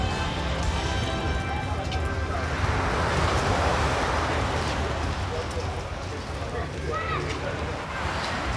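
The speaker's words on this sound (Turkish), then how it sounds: "yine bir deniz kenarı, dalga sesi" Sea waves washing onto the shore at a seaside stop on an evening caravan trip, a continuous broad roar mixed with wind buffeting the microphone, with people talking over it.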